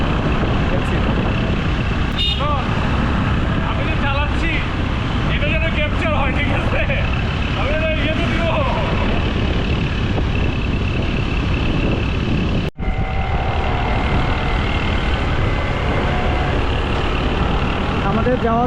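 A scooter carrying four people rides along a road in Sri Lanka with traffic around it, heavy wind buffeting the microphone over a constant rumble of engines and passing vehicles, while a voice talks throughout.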